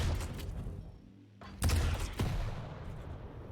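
Rocket explosions in a competitive Quake duel: a couple of heavy booming blasts close together, the second pair loud and punchy, over continuous game noise.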